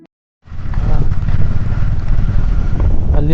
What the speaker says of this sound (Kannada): ಬೈಕ್ ಮೇಲಿದ್ದೀನಿ